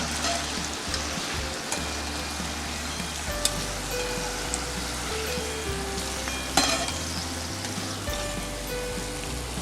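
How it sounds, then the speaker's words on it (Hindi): Kaju namak paare, cashew-shaped salted flour snacks, fry in hot oil over medium heat, giving a steady close bubbling sizzle with occasional clinks and stirring sounds, and no talk. "और इसे फ्राई करेंगे।"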